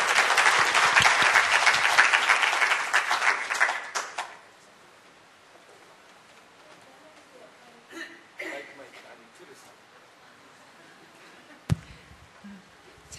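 Audience applause at a church camp forum, a dense burst of clapping for about four seconds that fades out, followed by quieter room sounds and a few scattered noises.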